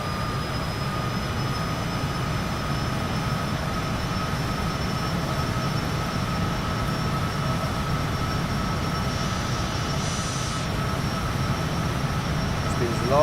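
A jet engine in a flight simulator game spools up for takeoff, a steady, loud, broadband roar with a faint high whine that holds almost unchanged throughout.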